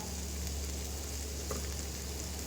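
Cauliflower sabzi, Punjabi dry style, fries in a pan as spices go in, giving a dense, steady close-up sizzle throughout with no talking.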